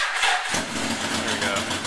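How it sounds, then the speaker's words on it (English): A motorcycle engine cranks on its starter clutch after carb cleaning and a couple of months sitting, catching quickly into a loud, rough running note within the first second. "Let's see if starter clutch has a little bit of juice left."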